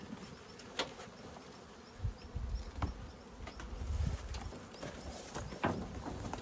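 Bees buzz steadily at an open beehive during hive work, a continuous close drone with occasional louder passes and faint handling knocks.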